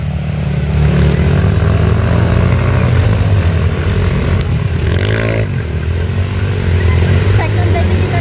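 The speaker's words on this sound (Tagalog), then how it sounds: "Puro microbike." Microbike motorcycles run at a race event, their engines a loud, continuous, buzzing drone that rises and falls with revving, while voices carry faintly underneath.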